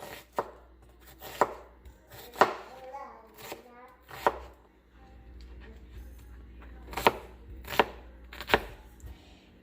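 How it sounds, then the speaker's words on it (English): A knife chops onions on a board in a home kitchen with about nine sharp, uneven thuds, spaced by pauses, and a brief stretch of talk between the cuts. "so I'm gonna chop my tomatoes. Sorry, my onions."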